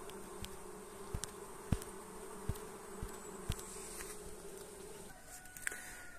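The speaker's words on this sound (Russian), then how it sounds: "Вот сюда мы перенесли 3 рамки с пчелами." Honey bees from a hive hum in a steady, dense buzz around frames being moved into another colony, with a few sharp knocks and clicks of the frames. The bees are close, and no one speaks.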